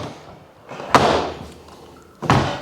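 A basement cellar door in a country house closes with two heavy, close thuds about a second apart, with quiet room noise in between.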